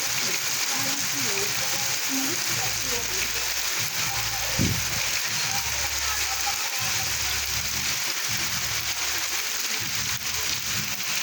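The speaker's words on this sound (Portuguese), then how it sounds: "Eita, que chuva legal." Heavy rain pours onto wet ground in the hilly backcountry of Serra Talhada in Brazil's northeastern sertão, a steady, dense hiss that holds through the whole stretch with no talk over it.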